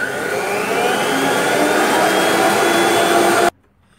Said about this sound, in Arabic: صافي دابا غادي نحرك على بركه الله هذه الكريمه ديالي